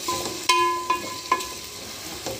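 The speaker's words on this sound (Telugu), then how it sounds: "చూడండి చక్కగా కలుపుకోండి" A spoon scrapes and clinks against a pan while potato egg bhurji rice is mixed, with a few sharp metallic taps over a soft steady sizzle, no talking.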